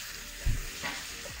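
Sesame oil and vegetables for an Asian stir-fry sizzle in a hot lava pan: a soft, steady frying hiss with a brief thump of food hitting the pan near the start, fairly quiet and close.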